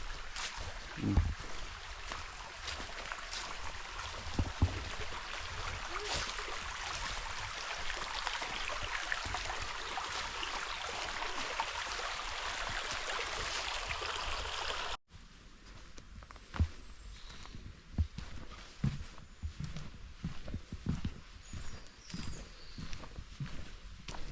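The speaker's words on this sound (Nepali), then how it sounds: "सुनसानमा चाहिँ पानीको कलकल आवाज है" Steady broadband rush of a babbling stream nearby on a slippery jungle path in the UK, with scattered thumps and footstep-like knocks; the rush drops off abruptly partway through.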